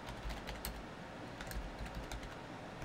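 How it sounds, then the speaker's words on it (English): Computer keyboard being typed on quietly at a steady, quick pace, soft clicking keystrokes with no voices. "Let me just type it out to everyone."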